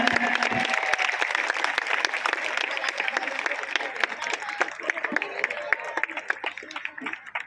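A crowd at a formal inauguration ceremony with a cabinet minister gives loud, sustained applause, dense clapping throughout with faint voices mixed in.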